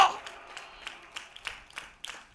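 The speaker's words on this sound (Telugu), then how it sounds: "కొట్టండి చప్పట్లు" Congregation in a church breaking into rhythmic clapping at a sermon's urging, steady repeated claps of moderate loudness filling the room, with a voice speaking over them.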